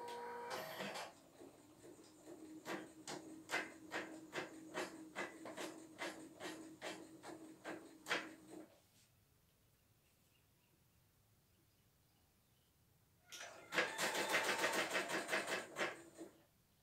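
An embroidery machine at a repair shop runs with a rapid, rhythmic mechanical stitching clatter for about eight seconds, stops in near silence, then starts again with a louder, busier burst.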